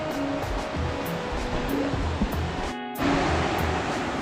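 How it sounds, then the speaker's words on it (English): A river stream flows at Cave Stream Scenic Reserve in New Zealand, a continuous broadband rush of nearby water that stays steady throughout, with one brief dip partway through. "River stream. Looks so nice."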